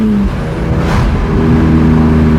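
A BMW E46 M3 with a Valvetronic exhaust revs and burbles, a deep engine blip rising then settling into crackling, popping burble up close.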